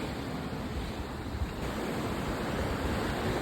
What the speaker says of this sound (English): Waves out here can come towering over here.